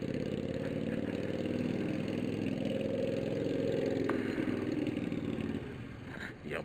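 A motorcycle engine runs steadily and loudly up close, a rough mid-pitched drone holding for several seconds before easing slightly near the end, with no talking.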